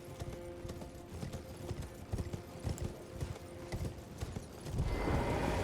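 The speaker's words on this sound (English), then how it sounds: "you can actually ride your horse all the way up to the door here" Horse hooves clip-clop in a steady, fairly quick rhythm while riding up toward a castle door in the video game Elden Ring, moderately close, ending in a swell of louder ambient noise.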